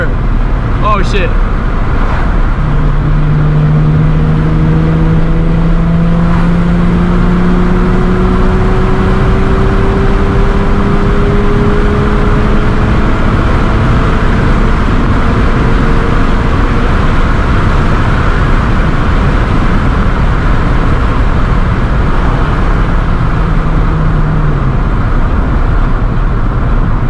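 A Nissan 350Z accelerates hard toward 100 mph, its engine note rising steadily through long pulls with a shift between them, beneath heavy wind and road roar from inside the cabin.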